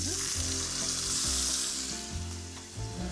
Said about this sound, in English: So we're gonna pan fry this tongue now.